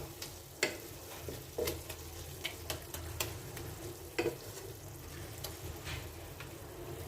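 Spice is stirred into Malabar spinach with shrimp in a pan, giving quiet, irregular scrapes and taps from the utensil over a faint, steady sizzle.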